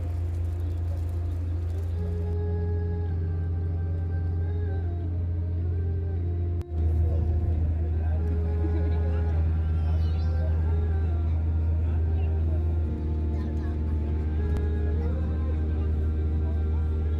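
A safari tour bus drives along a desert road, its engine holding a steady, loud low rumble and drone throughout, with a faint thump partway through and a shift in road noise afterward.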